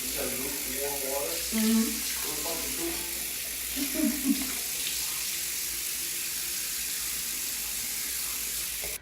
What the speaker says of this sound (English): it's time to wash it off, and I'm gonna just use some lukewarm water